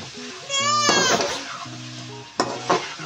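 Chicken and spices for Mughlai chicken are stirred in a pan with a sizzling, scraping sound under background music, and a brief voice comes in partway through.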